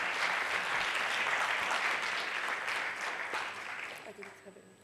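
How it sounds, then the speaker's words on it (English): Conference audience applauding to welcome a speaker at an opening session, steady clapping from many hands at moderate distance that thins out and fades over the last second. "I invite you all to give Margit a round of applause as a welcome."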